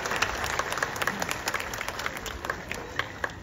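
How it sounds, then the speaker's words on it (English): Applause from the audience at a sea lion and seal show at Taronga Zoo in Sydney, a steady wash of clapping with scattered sharper claps, lasting a few seconds and moderately loud. "let's give her a big round of applause"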